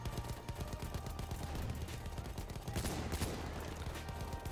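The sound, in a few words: rifle gunfire from video game Battlefield 1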